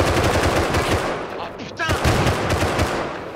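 Double-barrel shotgun blasts and rapid gunfire in the video game Rust ring out loud and close in a dense, repeated burst, with a player's voice talking over the shots.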